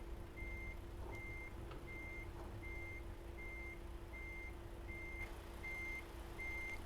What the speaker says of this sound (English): Truck in reverse, obviously.